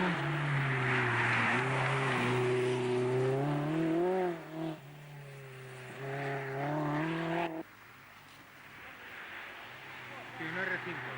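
A turbocharged rally car at a Monte Carlo rally. Its engine drones with a steady, rising tone that shifts pitch through gear changes. The car is fairly close and loud, and people talk nearby.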